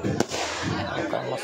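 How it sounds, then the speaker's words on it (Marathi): Firecrackers bursting at a village fair at night, a sharp crack standing out early amid steady crowd noise and chatter, with people talking throughout. "आणि बघा आता फटाके चालू केले."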